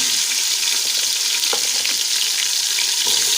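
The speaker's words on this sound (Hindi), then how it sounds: "ऑयल मेरा गर्म हो चुका है। अब मैं इसमें लहसुन, अदरक और सूखे धनिया का जो पेस्ट बनाया था वो डालूंगी।" A paste of garlic, ginger and dried coriander sizzling in hot oil, a dense continuous hiss close by with a few faint clinks of stirring.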